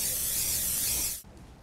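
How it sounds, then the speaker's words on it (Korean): Anti-slip snow chain spray hissing onto a car tire in one continuous close burst that cuts off sharply, leaving a quiet background. "이렇게 스프레이를 뿌려 미끄러움을 방지하는 스프레이 체인도 있는데요"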